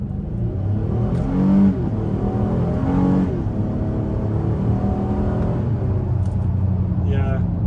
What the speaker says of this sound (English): The car is gone, so we'll go ahead and launch it from here.